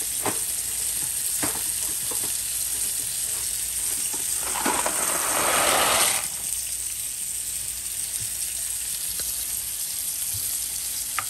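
Dry penne noodles drop into a pot on the stove, giving a brief rushing splash and hiss midway through a steady background of simmering, bubbling water, with no voices.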